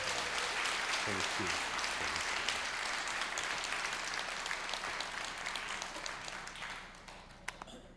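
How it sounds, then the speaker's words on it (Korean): A church congregation claps warmly in welcome of two speakers, a pastor and his interpreter, with loud, continuous applause that gradually thins and fades toward the end. "우리 두 분 우리 큰 박수로 우리 환영하도록 하겠습니다"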